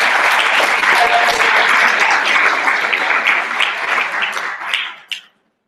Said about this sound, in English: So round of applause for all those.